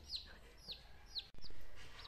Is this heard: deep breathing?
no